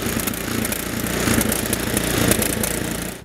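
A gas snowblower engine running after being cranked, a loud, steady close-up mechanical roar that holds for a few seconds and then cuts off, with no voices.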